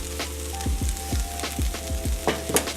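Zucchini noodles blanch in a pot of boiling salted water, giving a steady close hiss and bubbling with repeated soft low swooshes, over a constant low hum.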